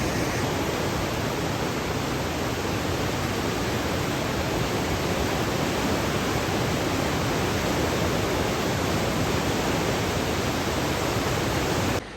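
Floodwater roars through a normally dry Arizona creek, a loud, steady broadband rush of whitewater that stays constant and unbroken throughout, with no voices over it.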